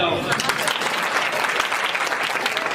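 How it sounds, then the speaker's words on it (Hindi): A crowd claps at an event, a thick, continuous burst of applause that holds strong and even for nearly three seconds with no pause. "ताली वाली हो जाओ"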